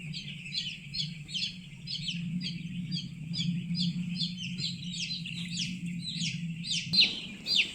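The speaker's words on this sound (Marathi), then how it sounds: "आमचे एकूण 4250 पक्षी सध्या फार्ममध्ये आहेत" Many young chickens on a poultry farm holding about 4,250 birds cheep in quick, high, repeated chirps over a steady low hum; the sound is continuous and fairly quiet.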